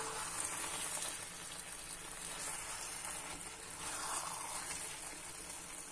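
Jambalaya simmering in a pot on medium heat while being stirred, a soft steady sizzle and bubbling hiss, faint and continuous with no talk.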